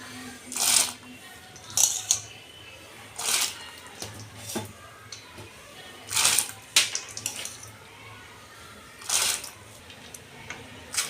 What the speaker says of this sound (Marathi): आता आपण याच्यात डाळ टाकून घेऊयात